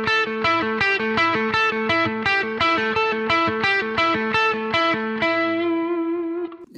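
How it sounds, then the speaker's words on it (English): Electric guitar with distortion plays a fast string-skipping alternate-picking exercise: a quick, steady run of bright picked notes leaping between strings. The line ends on a final note that rings out alone, with no talking. "The next exercise we're going to look at is a string skipping exercise."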